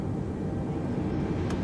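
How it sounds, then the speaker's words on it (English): Jet airliner engine spooling up in a flight simulator: a steady, dense low roar with a constant rushing wash, even in level and unbroken from start to end. "Now start engine 2."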